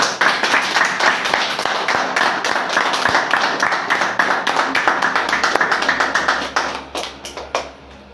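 A church congregation claps and applauds together, a dense, sustained burst of many hands filling the room, tapering off toward the end.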